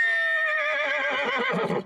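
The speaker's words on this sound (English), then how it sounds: "And you're able to ride a horse." Horse neighs in a single loud, close whinny lasting nearly two seconds, a high quavering call that breaks down at the end, with no other sounds around it.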